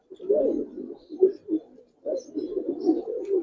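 Big silver giribaz and coloured pigeons coo close by in low, throaty, warbling bursts, with a short pause between two runs of cooing.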